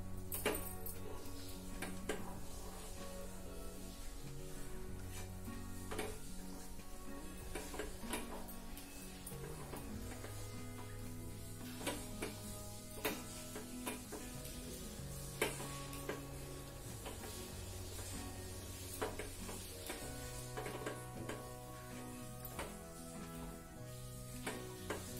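Sweet mixture with crushed cardamom stirred in a pan, a soft continuous sizzle and scraping running steadily under loud background music, no talk.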